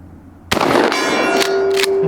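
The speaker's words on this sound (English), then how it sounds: "let's go back over there and bang on the gong a little more." A single loud shotgun blast strikes a steel gong, producing a sharp metallic clang followed by a sustained bright ringing tone that hangs on for over a second.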